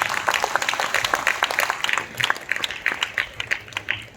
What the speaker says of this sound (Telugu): ఈ 3వ దినం కొరకు మనం బిగ్గరగా చప్పట్లు కొట్టి ప్రభువును మహిమపరుస్తాం